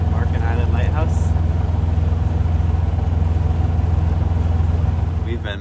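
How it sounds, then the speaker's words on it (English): A boat's motor runs steadily while cruising near Marken Island off Amsterdam, a loud, constant low rumbling drone with a throbbing pulse, close by and unbroken, while people talk over it. "We've been motoring for about 2 hours with no problems on the motor"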